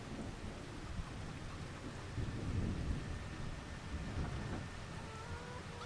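Rain falls steadily with rolling rumbles of thunder in Farming Simulator 25, a dense, even wash of downpour under low, swelling thunder and a little wind.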